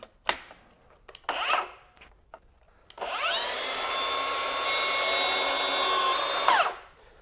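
Milwaukee 6-1/2 inch plunge track saw cutting hardwood along its rail. A few knocks and clicks come first, then the motor spins up into a loud, steady whine for about four seconds before winding down.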